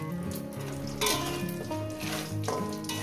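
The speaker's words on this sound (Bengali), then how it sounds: "বড়িগুলো আমি ভেজে নিয়েছি।" Lentil bori fry in hot oil in the pan where rui fish was just fried, giving a steady, dense sizzle with brief louder bursts. A continuous tonal layer sits over it.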